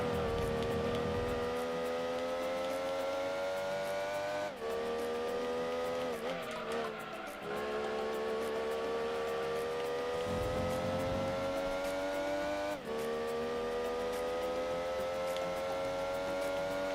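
Engines racing in the Gran Turismo 2 video game, a Mazda of 237 horsepower against TVRs, a loud continuous whining engine tone rising through gears with shift drops and brief tire squeal, no talk.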